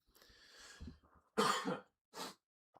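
Two sharp, close coughs after a brief throat-clearing rasp, then a faint click; no talking.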